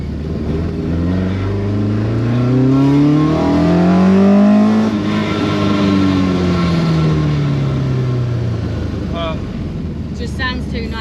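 A Ford Escort Mk2 with a YB Cosworth engine on carburettors revs hard close by, its note climbing and falling in long sweeping pulls with a loud, rasping tone throughout.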